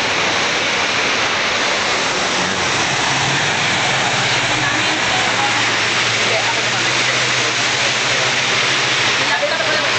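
Floodwater rushing through a creek in Antipolo in the aftermath of Typhoon Ondoy, a steady, loud, broadband roar that continues unbroken throughout.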